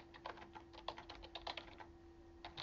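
Keys click quickly and lightly as someone types commands at a computer keyboard, in close, quiet bursts with short pauses between them over a faint steady hum.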